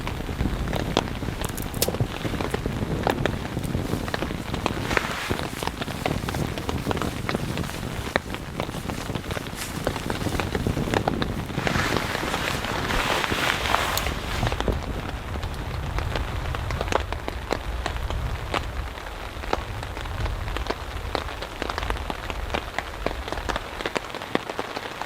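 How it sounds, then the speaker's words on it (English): Steady rain patters on a tarp at a nighttime campsite, a dense, continuous hiss of countless drops that swells for a stretch and then eases slightly, with no voices. "Rain tapped gently on the tarp."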